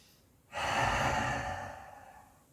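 One long audible breath, a breathy rush that begins abruptly, swells and slowly fades, taken close to the microphone during a stretching exercise.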